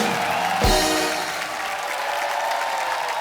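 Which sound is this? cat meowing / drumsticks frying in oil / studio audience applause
studio audience applause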